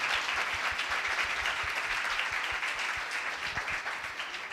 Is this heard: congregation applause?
yes